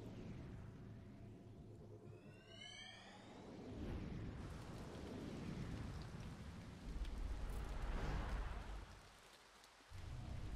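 Thunderstorm ambience from the video game To the Moon: a steady wash of rain on surfaces with low rolling rumbles that swell and fade, joined briefly by a chirping tone near the start, with no talking.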